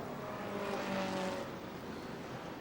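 Race cars roar around New Smyrna Speedway in a 2006 Sunbelt Series event, a loud continuous engine drone with a brief swell as the field passes close, then holding steady.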